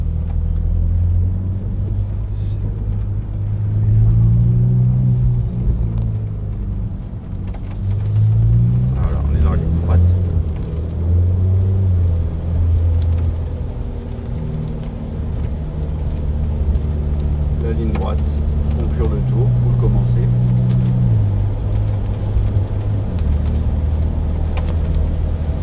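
A Ferrari F8 Spider drives on the Monaco circuit, its engine a steady low rumble that swells and eases in waves while people talk over it inside the car.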